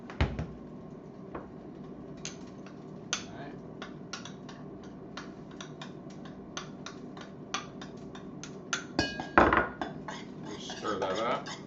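Utensil stirring seasoning into chicken wings in a dish for the air fryer, light close clinks and scrapes in an irregular run, louder clatter near the end.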